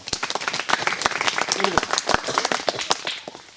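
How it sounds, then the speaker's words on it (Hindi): A group seated in a forestry range class claps on request, a brisk, uneven run of hand claps with many close, crisp slaps, while a voice talks over part of it. "ईमानदारी से ताली बजाओ सभी लोग। ताली बजाओ।"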